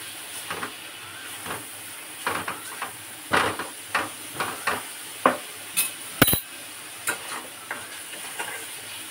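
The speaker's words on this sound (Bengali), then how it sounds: "এটা নাড়াচাড়া করে নেব।" Food with ground cumin being stirred in a sizzling pan, with a series of distinct scraping strokes against the metal over a steady frying hiss, recorded up close without speech.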